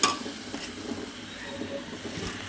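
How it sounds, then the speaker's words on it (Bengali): Prawns tipped into a pan of spiced masala being fried down, giving a soft steady sizzle with a few clinks and scrapes of a utensil against the pan, fairly quiet and close. "এখন আমি দিয়ে দিব চিংড়ি মাছগুলো"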